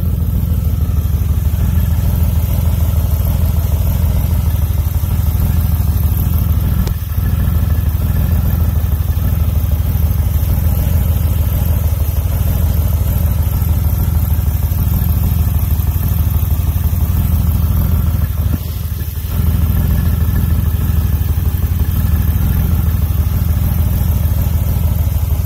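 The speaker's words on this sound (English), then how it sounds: "Ford Windstar. Good motor, good trans." A Ford Windstar's engine runs steadily at a medium pitch, a continuous close mechanical drone with slight clatter, holding level for the whole stretch apart from two brief dips, with no talking.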